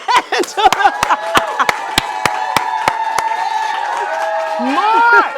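A talk-show studio audience greets a guest named Angela with steady, evenly spaced claps under whoops and cheering voices. The crowd swells louder toward the end.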